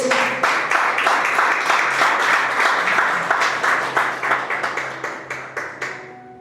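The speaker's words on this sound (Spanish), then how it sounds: "Dale un fuerte aplauso a nuestro Dios." A church congregation claps during a sermon, starting as full, steady applause and thinning into separate rhythmic claps that fade to silence.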